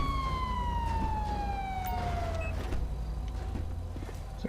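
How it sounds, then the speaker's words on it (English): Police car siren in GTA V with the LSPDFR mod, a wailing tone sweeping downward over a steady engine rumble, then cutting off about halfway through. "I'm gonna turn my sirens off."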